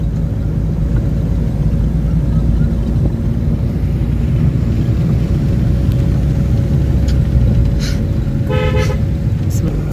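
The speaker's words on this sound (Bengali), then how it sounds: "এই মুহূর্তে পরশ ড্রাইভিং করছে, ড্রাইভিং শিখছে" A car driven on the road by a learner driver fills the clip with steady engine and road rumble from inside the cabin, with faint voices and a brief horn-like tone near the end.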